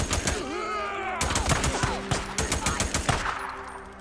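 Gunfire in the video game Days Gone: repeated sharp, loud shots and rapid bursts crack throughout, with game voices talking underneath.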